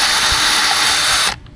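An electric drill fitted with a 1/8 inch bit whirs loudly and steadily, then cuts off abruptly, while drilling pilot holes for screws on a pool fence base.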